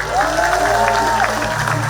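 Crowd applause fills the background at a Balinese Drama Gong performance at the Bali Arts Festival while a voice speaks over it in Indonesian with a rising, sing-song tone.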